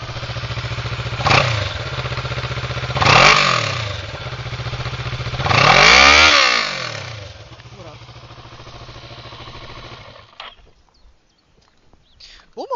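A cold Kawasaki ER6N motorcycle engine idles, then gets three short revs that swell and fall, the last and loudest about halfway through, before it settles back to idle and shuts off.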